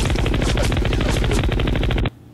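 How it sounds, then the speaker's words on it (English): A loud, rapid burst of gunfire rattles off many shots close together in a steady stream for about two seconds, then stops abruptly. "What was it, like 10, 12 shots?"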